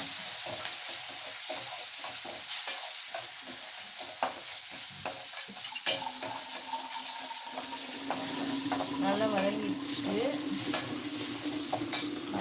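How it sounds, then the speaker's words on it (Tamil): Ginger garlic paste sautéing in a pan, a dense steady sizzle with frequent stirring scrapes up close, and a faint tonal background sound appearing in the later part. "இஞ்சி பூண்டு பேஸ்ட் பண்ணி போடுங்க நல்லா வதக்கிடுங்க"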